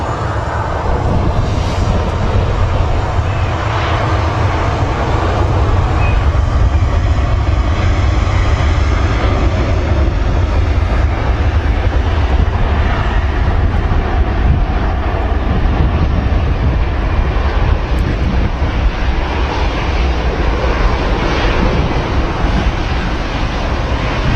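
A jet aircraft on the runway at Manchester Airport gives a loud, continuous engine roar that holds steady, with a broad rushing wash and no voices.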